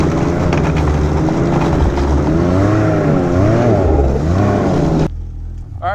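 A 2021 Ski-Doo 900 Ace Turbo snowmobile running fast at around 95 mph, a loud close engine drone whose pitch rises and falls before cutting off abruptly near the end.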